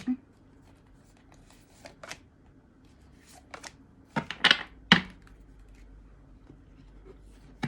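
Tarot cards are shuffled in a few short, crisp riffling bursts, with quiet handling clicks and pauses in between.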